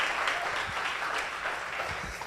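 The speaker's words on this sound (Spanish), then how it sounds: "¿Alguien le puede dar un buen aplauso a Jesús porque ha sido bueno?" Congregation applauding Jesus during a Spanish-language church service, a dense steady wash of many hands clapping throughout, moderately loud and fairly close, with no voices over it.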